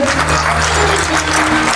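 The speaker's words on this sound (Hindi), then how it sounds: "तो ज्यादा ताली बजे एक बार मस्ती में।" Crowd clapping at an outdoor patriotic evening event in Udaipur, a dense, loud, continuous wash of applause with a low hum underneath.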